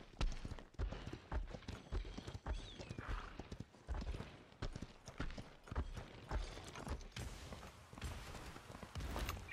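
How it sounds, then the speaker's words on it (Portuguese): In the Paladins video game, horse hooves clip-clop in a quick, steady rhythm up close, mixed with mechanical clanks and gear sounds. "Como é que um cavalo consegue andar com uma tartaruga deste tamanho?"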